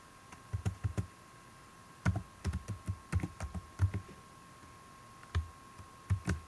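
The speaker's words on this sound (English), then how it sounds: "So then you're going to go into here and type in the formula." Keys clatter on a computer keyboard as an Excel formula is typed in, with quiet clusters of quick taps, brief pauses and a faint steady hum behind them.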